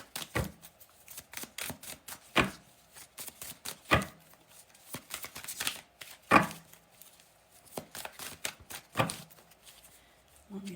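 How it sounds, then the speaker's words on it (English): Tarot cards being shuffled during a reading, giving repeated crisp riffling bursts at irregular intervals, fairly close and moderately loud, with quiet gaps between and no clear talk over them. "Want me to shuffle again?"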